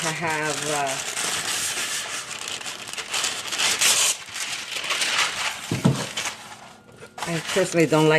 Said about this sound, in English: So I'm going to first wrap it in some parchment paper.